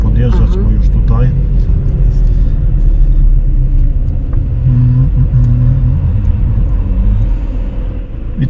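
A car drives straight ahead on a one-way road during a driving lesson, its engine giving a steady low cabin rumble while people talk throughout.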